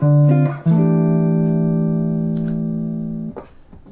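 Jazz guitar chord melody phrase played with moving inner voices over a static chord: a few plucked chords ring out and sustain with gentle melodic motion, clear and close, no talking.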